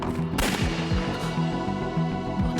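Gunshot in the video game Emio, a sharp loud report with a booming tail, set over a low, rhythmic, ominous music track that continues underneath.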